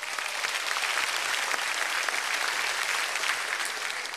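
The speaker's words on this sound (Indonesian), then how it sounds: "tepuk tangan lo buat Universitas Pamulang" A studio audience at a stand-up comedy show applauds Universitas Pamulang, a dense, steady wash of clapping that holds evenly for a few seconds without letting up.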